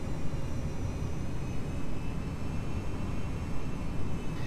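A FedEx Boeing 727 in Flight Simulator X taxis toward the runway with a steady, loud jet-engine rumble and a high whine, heard close and unbroken.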